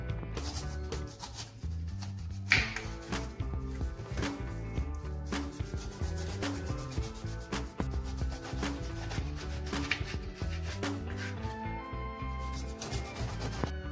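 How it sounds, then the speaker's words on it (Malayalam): A knife peels and cuts a pineapple, making close, rhythmic scraping and slicing strokes that repeat steadily without pause. No one speaks over them. "ഇനി ഇതിന്റെ തൊലിയെല്ലാം കളഞ്ഞ് ചെറുതായിട്ടൊന്ന് കട്ട്"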